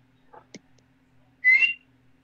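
A person whistles to call his brother: a short, shrill rising whistle, clear and fairly close, after a couple of faint clicks in a quiet room.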